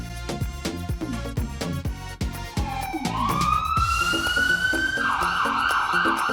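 Cartoon fire engine siren wailing as a toy-town fire truck rushes to a burning train on the railway, rising into a loud sustained tone over bouncy music with a steady beat.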